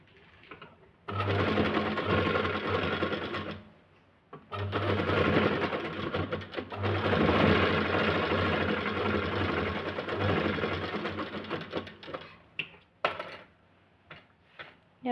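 Sewing machine stitching blouse fabric in long steady runs, stopping briefly around the fourth second and again near the end, where short bursts and clicks follow; close and clear, with no talking.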